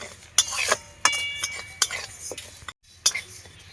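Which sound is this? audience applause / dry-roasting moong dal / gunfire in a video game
dry-roasting moong dal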